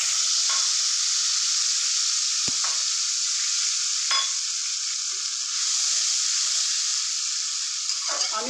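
Cinnamon sticks, cardamom and ground spices sizzle in hot oil for a Bengali rajma dish, a loud, continuous crackling hiss, broken by a few sharp stirring scrapes.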